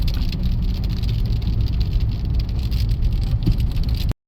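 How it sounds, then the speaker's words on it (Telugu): Heavy rain pouring down around a car, a loud dense steady roar of drops drumming on the body with a low rumble underneath, cutting off abruptly at the end. "ఫుల్ వర్షం పడుతుంది."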